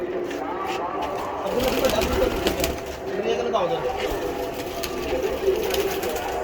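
A large Kasuri pigeon coos in soft, low, rolling bursts at close range, mixed with other bird sounds and a mechanical hum, while people talk nearby.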